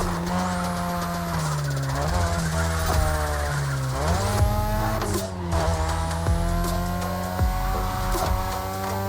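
A 2002 third-generation Mazda RX-7 with a rotary engine races in The Crew Motorfest video game. The engine screams loudly and continuously, climbing and dropping through gear shifts with hints of tire squeal.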